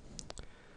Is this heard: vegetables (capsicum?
no